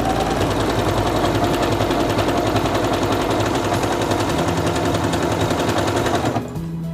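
A Singer Quantum Stylist 9960 sewing machine stitches an elongated decorative pattern, a fast, loud, rhythmic mechanical chatter running steadily before stopping abruptly near the end.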